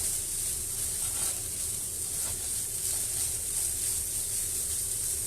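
Vegan fried rice in a very hot, no-longer-non-stick pan gives an even, steady hiss of sizzling, close and unbroken, with faint stirring movements beneath.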